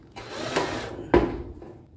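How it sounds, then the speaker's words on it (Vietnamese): A power drill drives a screw into a metal roofing sheet to fix a leaking roof, giving a short whirring run followed by a sharp, louder bite and a brief tail, close up. "Bây giờ mình dùng khoan các bạn và mình xiết nó lại một chút xíu ha."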